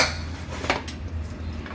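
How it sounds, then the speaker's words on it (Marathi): A pressure cooker lid comes off after cooking dal palak khichdi, giving a short clatter of metal on metal near the middle, then a quiet kitchen background. "झाकण काढून दाखवते तुम्हाला"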